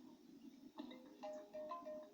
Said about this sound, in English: that's an apple chime.